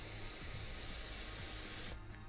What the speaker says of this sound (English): Shake your can up and then lightly spray, just very lightly.